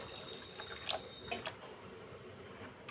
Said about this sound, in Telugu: ఎంత అయితే పానీ కావాలి అనుకుంటున్నారో అన్ని నీళ్ళని పోసుకొని పెట్టుకోండి